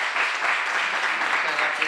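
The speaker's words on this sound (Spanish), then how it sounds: "vamos a dar un fuerte aplauso a FJS." An audience at a novel presentation bursts into dense, continuous applause, loud and even across the whole short stretch.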